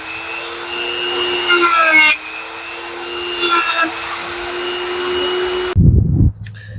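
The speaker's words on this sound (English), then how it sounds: "plan B, I'm going to go with my Dremel here and see what kind of good clean cut I can get with this" A Dremel rotary tool cuts through a bumper on a third-generation Toyota Tacoma, a loud, close, high whine that shifts pitch as the bit bears into the material, then cuts off with a brief clatter.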